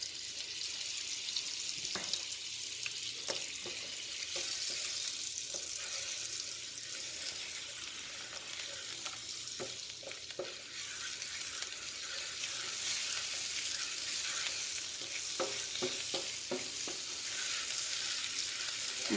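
Red chili powder sizzling in melted butter for a dal makhani tempering: a steady, hissing fry that runs throughout, with a few soft clicks of stirring and no talk.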